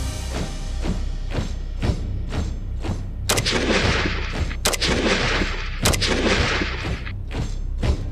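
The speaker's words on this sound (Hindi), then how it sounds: "हमने 200 मीटर से 3 राउंड और 100 मीटर 3 राउंड फायर किए" Rifle rounds fired at 200 m and 100 m targets in a military shooting competition, a series of sharp cracking shots, some distant and some louder and nearer, spaced irregularly over a range ambience.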